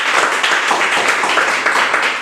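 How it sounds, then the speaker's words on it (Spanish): Church congregation applauding, a dense, loud, steady clapping throughout with a faint voice mixed in. "Vamos a dar un fuerte aplauso a la palabra de Dios."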